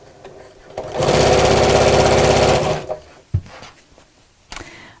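Sewing machine stitching the hem of a drawstring beach bag, a loud close whirring run of almost two seconds, then a few soft clicks and handling noises.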